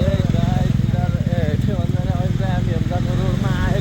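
A scooter engine hums steadily while riding along a road from Ghandruk to Pokhara, close and continuous with a rapid pulsing note, and someone talks over it throughout.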